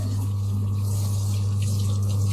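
Water running steadily from a hose or tap while a dog is washed in the bath, a constant loud rush over a low pump-like hum, with no voices.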